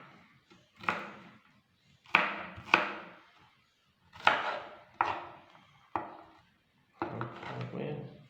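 A knife chops garlic thinly on a board, sounding as a handful of separate sharp, close taps with quiet gaps between them and a quicker cluster of cuts at the end, with no voices.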